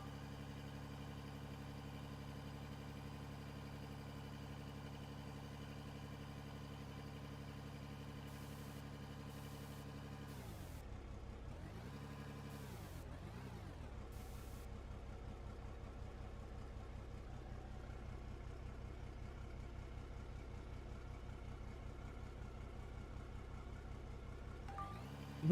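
In a mining video game, a rock truck's engine idles as a steady, quiet hum. Near the middle, a few brief rising and falling pitch swells cut through.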